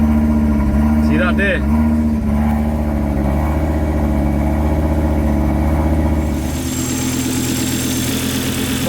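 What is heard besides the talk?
Volvo T5 engine cranking and idling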